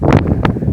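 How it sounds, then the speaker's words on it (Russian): Brief, loud buffeting of strong wind blasting against the microphone in rough gusts, in open country with no bushes in May. "Ветер, конечно, вообще некомфортный."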